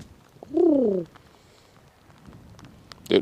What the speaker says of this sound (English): Dude, that is a thick pigeon.